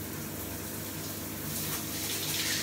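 Shower water running while hair is rinsed under a gentle, low-pressure shower head, a steady close hiss and splash that grows slightly brighter toward the end.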